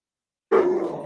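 A dog barks once, loud and close, after a half-second of silence, the sound trailing off with a rough, roaring edge in a home setting.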